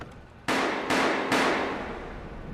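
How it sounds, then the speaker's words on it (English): Gunshots in an Attack on Titan anime episode, three sharp loud reports spaced evenly a fraction of a second apart, each followed by a ringing decay, with no talking. "what's the gunshots from?"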